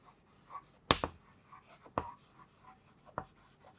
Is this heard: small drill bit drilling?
no